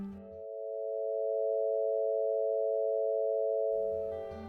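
A synthesized chord built from a 20-character math formula sounds as a pure, steady electronic tone of a few stacked notes, held evenly for about three seconds and fading in and out, with no other sound around it.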